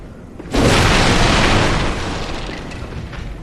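Heavy gunfire blasts from the Chain Gun Grandpa enemy in the video game Bloodborne: a sudden loud burst that roars on continuously, dense and booming, then eases slightly while still rumbling, with no speech.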